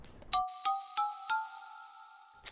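Phone ringtone during an outgoing call: four bright, evenly spaced electronic ring tones sounding alone and close, then cutting off.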